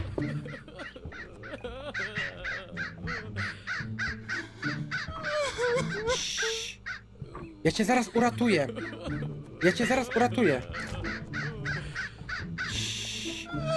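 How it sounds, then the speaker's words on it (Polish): A raven caws in the Hello Neighbor video game, harsh calls cutting in and out amid game music and effects while someone talks steadily over them. "A tu jest ten kruk."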